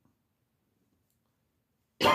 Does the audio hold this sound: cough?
yes